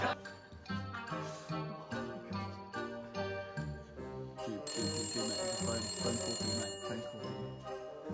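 A telephone rings with a repeating jingly ringtone, loud and close. The rings come in a steady pulsing rhythm and run right through, with faint voices underneath.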